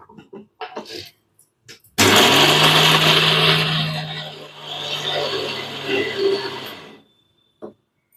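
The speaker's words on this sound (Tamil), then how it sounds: "வேர்க்கடல சட்னி வச்சுக்கோங்க அரைச்சி எடுத்துக்கலாம்" A kitchen mixer grinder grinds peanut chutney, whirring loudly for about five seconds, starting abruptly and cutting off, with brief voices and clatter before and after.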